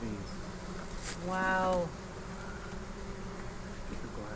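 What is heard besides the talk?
swarm of bees buzzing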